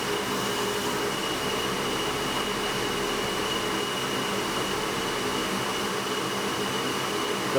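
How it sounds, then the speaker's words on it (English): A shop vacuum pulls light debris away during shear brazing work, a continuous loud whooshing roar holding steady throughout with no speech. "The stuff is so light, you don't have to have the vacuum right on it. It's sucking it from that far away."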